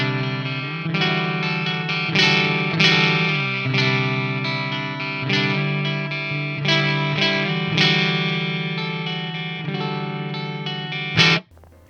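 Jackson electric guitar played through its 59 SH neck pickup, a run of heavily distorted, effects-laden chords and notes, loud and sustained with a chorus-like shimmer, ending on a sharp final strike.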